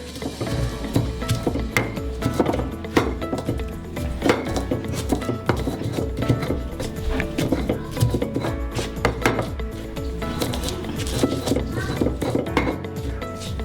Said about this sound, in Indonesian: Terus kita ulek dulu sebentar.